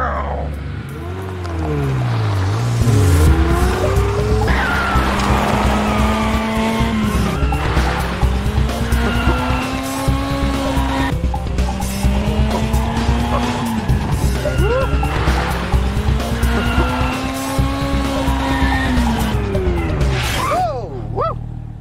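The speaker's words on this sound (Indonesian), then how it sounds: "Patrick akan mengendarai mobil dengan mata tertutup." A car being driven blind in a TV drama scene, with a sustained engine note that keeps rising in pitch and tyre-skid squeals across the whole stretch, loud and continuous under a busy soundtrack.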